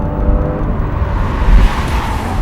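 Porsche Cayman, a mid-engine rear-wheel-drive sports car, driven on a race track, its exhaust giving a steady low engine drone with a brief louder swell partway through.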